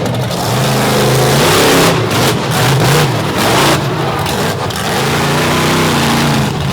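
A loud stunt vehicle engine with engine problems revs up and down unevenly, sputtering and surging, close by with no voices, at an Overdrive Battle event.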